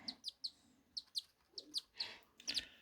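Baby cockatiels give a series of short, high, sharp chirps during hand feeding, coming in quick pairs and clusters with brief gaps, close and fairly soft, with no talking.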